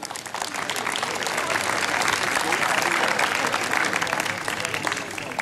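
Audience applause at an award ceremony for a race, a dense, steady wash of many hands clapping close by, sustained throughout with a voice faintly audible underneath.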